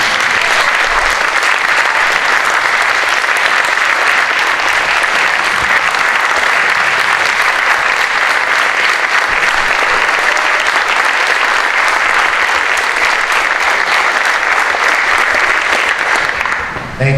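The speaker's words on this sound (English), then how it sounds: "I think our Emeriti deserve another round of applause." Sustained, loud applause from a crowd at a college class reunion dinner fills the room for about seventeen seconds, steady and dense throughout.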